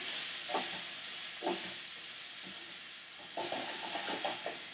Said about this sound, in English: That is what you want to hear when you put your shrimp in the pan.